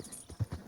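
Horse hooves clip-clop in Red Dead Redemption 2, giving a few quick, muffled thuds close by, the last two landing harder.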